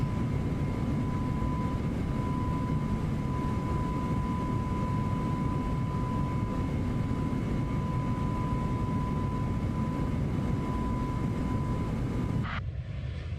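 Inside an airliner cruising on autopilot in the X-Plane 12 flight simulator, a steady engine roar with a constant high tone hums evenly and moderately, then cuts off abruptly near the end.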